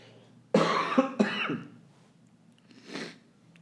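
Two harsh, close coughs in quick succession, followed after a pause by a softer third cough or throat clearing.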